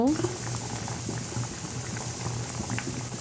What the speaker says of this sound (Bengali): এখানে আমি সবজি অল্প একটু সবজি বয়েল করে নিচ্ছি